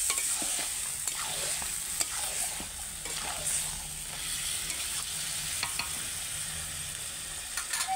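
Chicken sizzles and fries in a pan while being stirred for a Bengali chicken kosha, with steady broadband frying hiss and repeated scraping clicks of a spatula throughout, close and continuous, with no talking.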